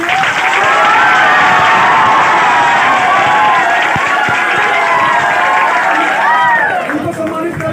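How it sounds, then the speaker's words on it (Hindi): Audience at a coaching-centre quiz show in Gopalganj clapping and cheering loudly for a prize winner, a dense sustained wash of applause and shouts that fills the whole stretch with voices mixed in. "एक इनके लिए जोरदार ताली होनी चाहिए"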